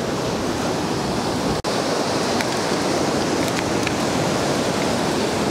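Ocean surf on a beach at high tide, a loud, steady wash of broadband roar with one brief dropout and faint ticks, recorded close with no voices.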